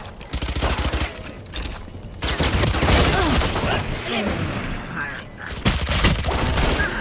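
Rapid gunfire in a tactical shooter video game during a spike-plant round, loud, sustained bursts and double shots running through the whole stretch with a caster talking over it.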